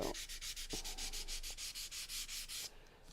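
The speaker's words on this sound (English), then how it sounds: "I don't want to sand right through these, but I do want to soften them" Sandpaper rubbed over a surface to soften patch edges, in a quick regular series of about fifteen short rasping back-and-forth strokes, close and clear, then stopping near the end; no voices.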